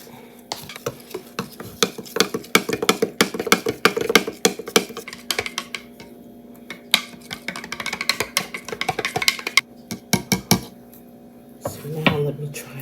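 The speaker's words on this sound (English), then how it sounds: "I'm going to take a scoop and put it in this iced tea. I'm going to stir it up." Metal spoon stirring collagen peptide powder into a glass of iced tea, a quick run of clinking taps against the glass close up, with a brief lull and a final swirl near the end.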